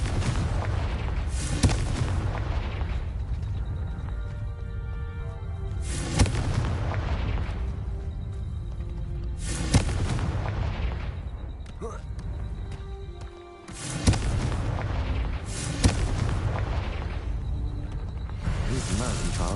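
Incendio and Confringo spell blasts in Hogwarts Legacy, a video game: a steady run of loud fiery booms and bursts, one every few seconds, over continuous game music and ambience, with a spoken voice calling spells.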